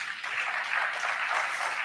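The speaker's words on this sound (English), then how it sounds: "Give her a round of applause" Steady applause from a crowd, even and continuous clapping filling the space without pause.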